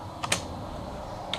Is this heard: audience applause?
no